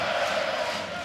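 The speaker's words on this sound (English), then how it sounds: "the crowd here in Radom cheering on their boy" A crowd cheers for a local fighter at a KSW fight in Radom, a dense and steady roar of many voices that fills the brief moment.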